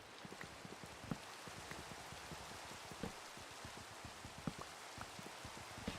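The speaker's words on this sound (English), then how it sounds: "The rain is so loud I don't hear my music anymore." Steady rainfall in a Roblox game, a dense hiss of falling rain with scattered droplet ticks and pattering, constant and even throughout with no voices.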